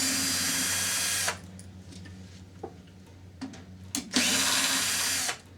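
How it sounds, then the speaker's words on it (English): A power tool whirs in two loud, sustained bursts as it backs screws out of the diff cover on an HPI Baja, with quieter clicks and small taps between the runs and no voices. "You have 6 screws here, and we're going to pull those out right now."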